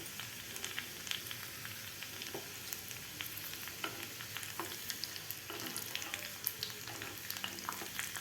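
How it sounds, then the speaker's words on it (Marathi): Chopped garlic fries until brown for a Khandeshi-style brinjal bharit. A continuous close crackling sizzle is broken by occasional light stirring taps, with no voices. "त्यानंतर चॉप करून घेतलेलं लसूण घालायचं आहे"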